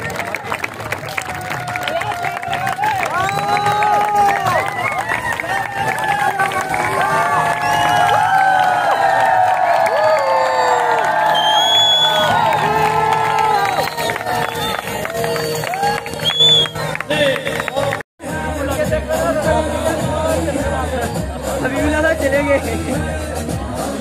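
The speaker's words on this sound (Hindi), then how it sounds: "तालियां बजाएं, सारे बच्चे जोर से तालियां बजाएं।" Children clapping loudly together with cheering and shouts at a spring festival, a dense, sustained crowd roar with a brief dropout near the end.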